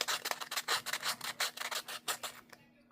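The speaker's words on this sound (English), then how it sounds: "Just needs a little bit more sanding." A dryer sheet rubs along the edge of an altered card in rapid, rhythmic back-and-forth scratchy strokes, close and fairly steady for a couple of seconds before stopping.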